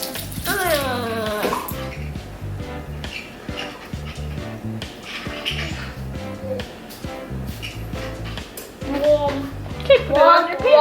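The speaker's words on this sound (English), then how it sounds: "I wash my hands." Tap water runs steadily as a child washes hands at a kitchen sink while baking chocolate chip cookies, with a child and an adult talking over the splashing throughout.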